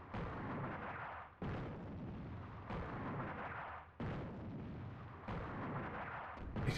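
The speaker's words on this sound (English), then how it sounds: "Here comes the airstrike." Heavy airstrike explosions in the strategy game Attack at Dawn: North Africa, a string of loud, dense booming blasts that roll continuously and restart in fresh bursts about every second or two, with no talking over them.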